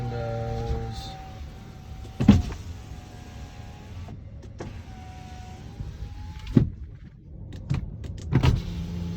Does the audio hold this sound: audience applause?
no